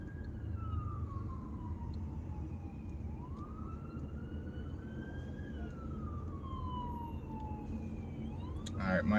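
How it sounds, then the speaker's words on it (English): An ambulance siren rises and falls as it approaches through city traffic, over a steady low car engine rumble, then a horn blares at the end. "We got to get over and let this ambulance get through"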